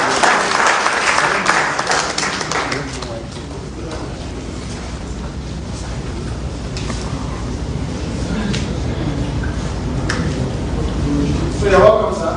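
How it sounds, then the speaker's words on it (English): A crowd applauds at a party presidential primary in Abuja, clapping strongest in the first few seconds, then thinning into a steady murmur under ongoing talk. "Please, a round of applause for me."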